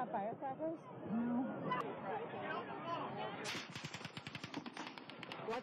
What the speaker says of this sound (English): We see muzzle flash from the Mandalay Bay.